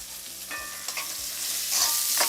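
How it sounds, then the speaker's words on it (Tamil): Vegetables slowly sautéing in a pan over a low flame, a steady soft sizzle with a few light stirring scrapes, close and continuous, with no voices. "மெல்லமாக வதங்கட்டும்."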